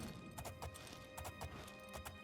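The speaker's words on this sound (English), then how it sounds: "Quickly, let's grab this horse." Hooves clip-clop in a steady rhythm over a constant background hum, light and fairly faint, from a horse in the video game Oblivion.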